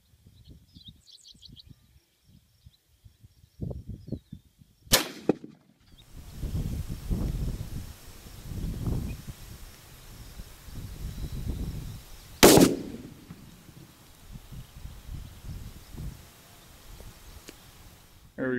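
A .308 Remington 700 varmint rifle with a 24 inch barrel fires during a terminal ballistics test, giving two sharp, loud outdoor reports several seconds apart, each with a short echo.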